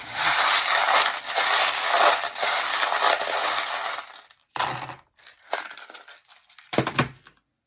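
Divination charms are cast and handled, giving a dense rattling clatter for several seconds, then a few separate clicks and taps of small objects settling.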